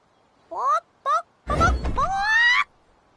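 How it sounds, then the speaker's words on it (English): Chicken clucking from a character in the LEGO The Hobbit video game, two short rising clucks followed by a longer drawn-out squawk, close and clear with no talk. "That's chicken talk for thank you for this wondrous garment."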